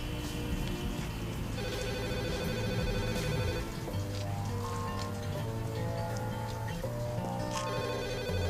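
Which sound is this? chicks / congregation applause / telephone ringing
telephone ringing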